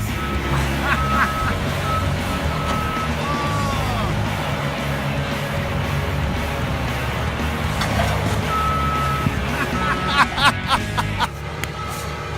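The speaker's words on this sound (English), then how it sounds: "We lost the swing motor on our big excavator, and this is what he's doing." A big excavator with a broken swing motor working on a site, its high reversing beeps sounding in short repeated bursts over a steady engine rumble, with faint voices and laughter in the background.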